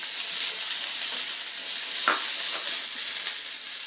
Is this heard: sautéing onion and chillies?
yes